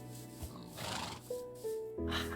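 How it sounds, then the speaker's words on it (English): Horses neigh in the Minecraft video game, with one whinny followed by a rising, tonal neigh near the end, loud and close with a few clicky game sounds around them. "So many horses."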